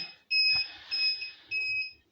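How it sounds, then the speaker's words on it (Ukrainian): A Volt Polska sinusPro-2000E UPS with a draining AGM battery gives repeated shrill electronic beeps in a steady on-off pattern, each lasting about half a second, fairly close in a quiet room. "Зараз він пищить виключно із-за того, що акума не вистачає"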